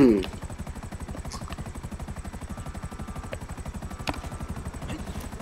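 A helicopter in GTA 5 on PS5, flying over North Yankton, thumps steadily with a fast rotor pulse that stays loud and close throughout, and a brief whine is heard near the start.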